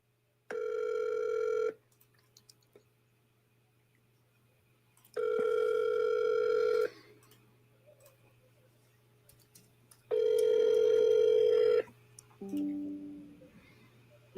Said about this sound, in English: let's get that triple dial in for Kurt